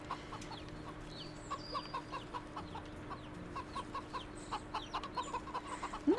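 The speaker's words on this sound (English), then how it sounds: "There's chickens!" Hens and small chicks in the video game Wytchwood keep up a soft, continuous patter of clucks and peeping chirps, quiet and evenly spread across a steady background ambience.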